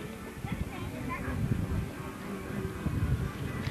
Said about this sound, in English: I think those horses are proud to be out today. Look how high they're stepping.